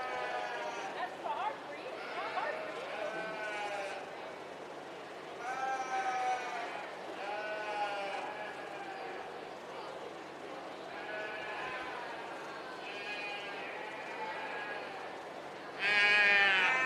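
Sheep bleat repeatedly at a county 4-H fair sheep show, a series of wavering calls in irregular bursts over a crowd murmur, with a louder bleat close by at the end.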